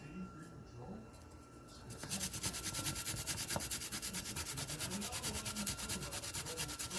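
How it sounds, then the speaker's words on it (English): A shallot grated finely on a grater in a home kitchen: quiet background at first, then a fast, steady rhythmic rasping of strokes that continues without pause for about five seconds, fairly close. "going to grate a shallot in here, real fine"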